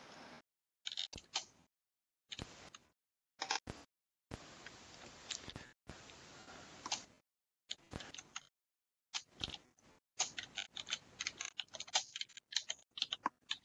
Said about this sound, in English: And that is the sound of Paul's keyboard.